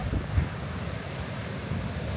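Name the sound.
waves at Redondo Beach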